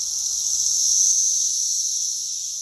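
A dense, loud, steady Brood X cicada chorus in South Central Indiana, about 113 decibels, a continuous high-pitched droning buzz that swells slightly and stays constant throughout, with no voices.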